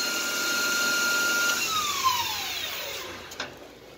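A lathe turning a pen holder to diameter whines steadily, then its pitch sweeps downward as the machine is shut off and spins down, with a couple of soft knocks near the end.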